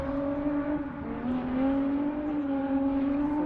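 A drift car at the Piedmont Drift Invitational runs under aggressive throttle, its engine holding a loud, steady, buzzing drone that swells and rises slightly in pitch throughout.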